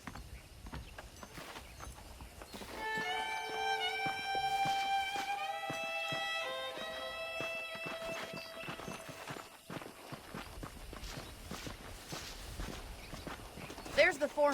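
Horse hooves clip-clopping in the video game Red Dead Redemption, a steady walking rhythm of clops alongside background music with sustained tones, faint under the game mix.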